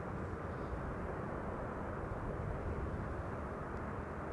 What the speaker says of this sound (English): Cathay Pacific Cargo, flight 2067, arriving from Dubai World Center